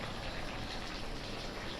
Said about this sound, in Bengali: এরকম ফুটছে টম্বক টম্বক করে ফুটছে দেখো